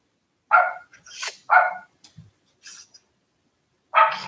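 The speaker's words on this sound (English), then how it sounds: "I need to mute my barking dog." A dog barking in short, separate bursts, three loud barks spaced about a second apart with a few softer yips and whimpers between them, heard close by in an otherwise quiet room.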